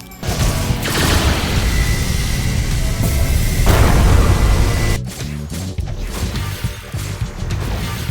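Air slash barrage sword attack in Blox Fruits, a loud rapid flurry of slashing crashes and whooshes with a brief cut-off midway before more hits follow.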